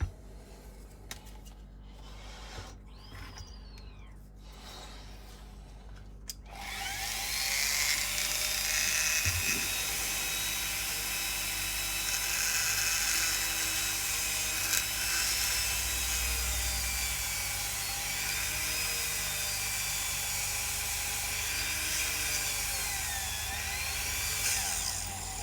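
Power drill boring into a part of a Reaver Titan model, starting after a few seconds of quiet and running as a long, steady high whine that wavers slightly in pitch.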